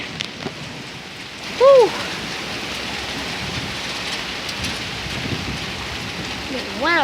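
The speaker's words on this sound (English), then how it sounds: "Here comes the rain." Heavy rain pours steadily during a severe thunderstorm, a dense continuous hiss close around, broken by a person's brief excited whoops.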